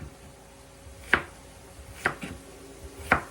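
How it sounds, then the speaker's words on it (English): A knife chopping half of an onion on a cutting board while making bacon cheese cauliflower, with three sharp, spaced chops about a second apart against quiet room noise. "Alright, so just chop your onion up."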